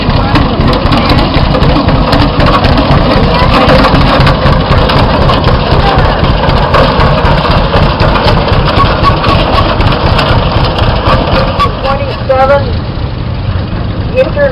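Engine of a 1930 International 1.5-ton truck, oil-cooled, running at a steady, loud, rumbling idle close by at an outdoor harvest reunion, with someone speaking over it throughout.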